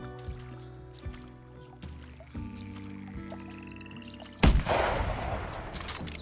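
A single loud rifle shot cracks out sharply in theHunter Classic at Val Des Bois, breaking a quiet scene of low hum and faint ambient tones, then trailing into a noisy echo.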